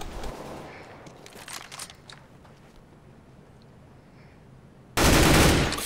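Gunshots in the video game CS:GO: a long quiet stretch with faint scattered sounds, then a sudden loud, sustained burst of fire at the very end.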